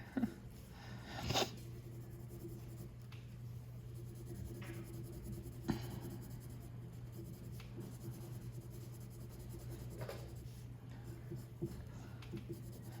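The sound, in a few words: colored pencil shading on paper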